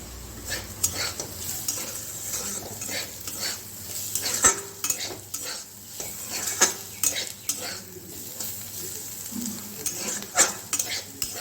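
Bottle gourd peel fries in a pan with poppy seeds and a little sugar, a soft steady sizzle under repeated scrapes and clinks of a utensil stirring against the pan.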